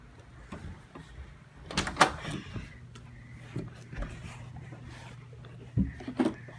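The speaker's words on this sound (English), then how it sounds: "can't forget to shut my door" A bedroom door swings shut with a couple of muffled thuds and clacks in an otherwise quiet room, the main knock landing near the middle and a softer bump following later.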